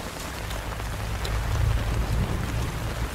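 Steady rain patters on a surface, a dense continuous hiss with a low rumble swelling in the middle.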